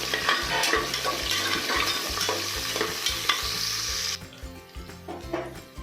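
Sliced onion frying in oil in a pan, a loud continuous sizzle with rhythmic stirring scrapes that drops away abruptly partway through, leaving quieter scraping and clatter.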